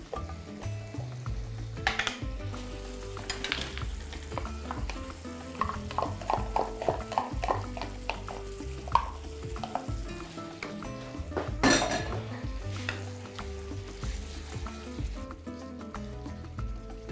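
Pork rib ingredients sizzle in a pan with tomato puree added, with a low steady fry punctuated by stirring scrapes and light clinks of utensils against cookware.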